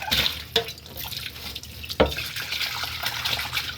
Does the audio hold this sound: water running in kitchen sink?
yes